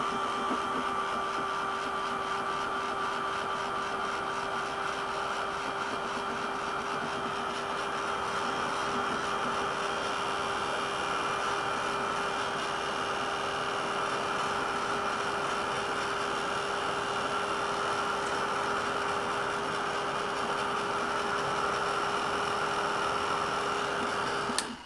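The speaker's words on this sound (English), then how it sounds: "So I can dry it a little with the heat tool and then continue on the second half." A heat tool drying craft paint blows with a continuous steady whir and a constant tonal hum, holding at an even loudness throughout and sounding close by.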